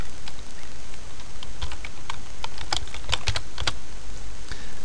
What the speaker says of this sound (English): you just type your heading in there.